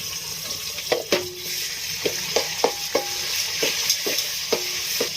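Tomatoes fry with onions in a pan, a soft steady sizzle broken by sharp, irregular taps and scrapes of a spatula stirring close by, with no one talking.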